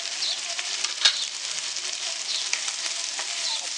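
White onions, spring onions and capsicum sizzle steadily in a hot pan as they are stir-fried for Indo-Chinese egg Manchurian, a continuous crackling hiss with occasional spatula scrapes.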